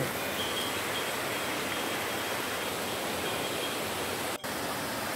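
A small waterfall and river beside a Balinese temple in a valley, with a constant, dense, rushing wash of falling water that stays steady and loud throughout, broken only by one brief dropout near the end.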